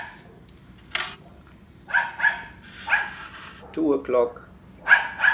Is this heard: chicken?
no